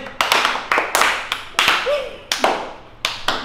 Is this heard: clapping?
yes